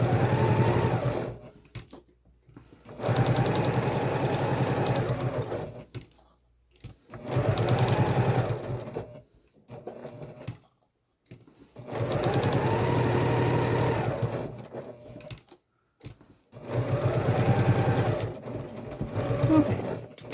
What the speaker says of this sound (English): All right, so that is all sewn on.